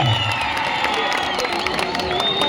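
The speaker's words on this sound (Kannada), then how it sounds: "ನೋಡಾಯ್ ಚಪ್ಪಾಳೆ ಬರಲಿ ಒಂದ್ಸಲ ಜೋರ ಚಪ್ಪಾಳೆ" A crowd at a kabaddi final match claps and cheers loudly in a continuous roar, with shouts and whistling rising above the dense applause.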